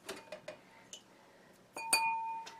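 Real glass cups clink against each other in a camper cupboard, a few light chinks followed by a louder ringing glass knock that fades out.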